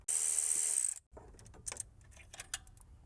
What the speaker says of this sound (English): Instead of using regular ratchet, I'm gonna use this impact one to remove those two bolts